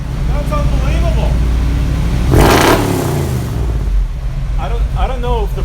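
A Chevy K10 truck engine fitted with a new MagnaFlow exhaust rumbles steadily at idle, a deep continuous drone with a brief louder surge midway, while excited voices talk over it.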